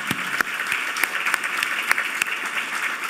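A modest event audience claps for the staff, a steady round of applause with a few distinct sharp claps standing out near the front.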